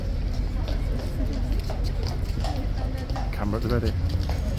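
Horse hooves clip-clop at a King's Guard post as one horse comes in behind another, steady hoof knocks running under close talk and crowd babble.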